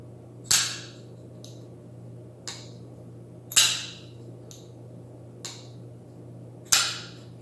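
A folding knife is flicked open again and again during fidgeting, producing sharp metallic snaps, some loud and some softer, spaced about a second apart over a quiet background hum.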